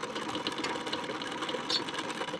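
Sewing machine stitching a hook strip onto a blouse runs steadily, a fast even mechanical whir with rapid needle clatter, close and alone without talk.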